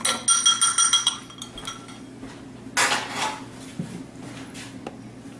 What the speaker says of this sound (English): I'm going to give that just a quick little stir.